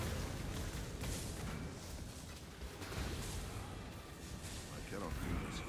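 Explosions from a chieftain character in a video game pile up in a dense, continuous barrage of booming, crackling blasts and whooshes, overlapping with no pauses.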